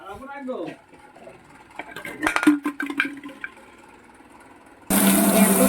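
Water pours into bottles with a rising gurgle at first, then uneven splashing and clinking, and a sudden loud rush of flowing water at the very end.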